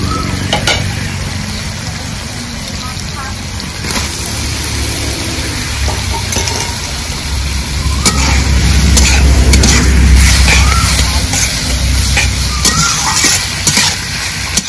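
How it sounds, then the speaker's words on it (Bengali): A pan of boiled taro (kochu) with prawns and green chillies is stirred, with steady sizzling frying, scraping and clattering of the spoon, and a louder stretch of stirring midway. A voice speaks faintly underneath. "কচু দিয়েও একটু নাড়াচাড়া করে নিলাম"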